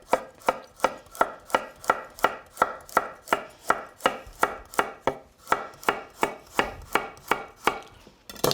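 A knife slices carrots on the bias against a cutting board, about twenty crisp, evenly spaced chops at a brisk rhythm, close and clear with no talking.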